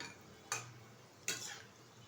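Langcha sweets stirred in a frying pan: two distinct scraping strokes of a utensil against the pan, each a brief swish, over a soft steady sizzle of oil.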